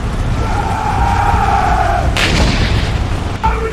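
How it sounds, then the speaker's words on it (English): A bombardment explosion booms across a continuous low rumble during the 1980 Maitatsine fighting in Kano, a broadband blast bursting in about midway and followed by a fainter second hit near the end. "The bombardment began."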